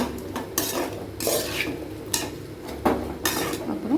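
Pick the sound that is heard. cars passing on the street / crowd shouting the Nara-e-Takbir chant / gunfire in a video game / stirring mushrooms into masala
stirring mushrooms into masala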